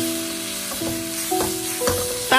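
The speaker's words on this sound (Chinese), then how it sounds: "继续开大火快速的给它翻炒均匀" Dried tofu stir-fried over high heat in a wok with sauce added, giving a moderate sizzle broken by a few scraping tosses of the spatula, with no talking.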